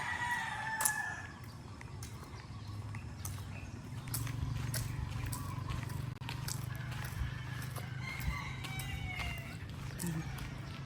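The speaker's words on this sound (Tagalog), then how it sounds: "tilaok ng mga manok." Roosters crow repeatedly in the distance over a steady outdoor hum in a Philippine neighborhood, with a few faint clucks mixed in.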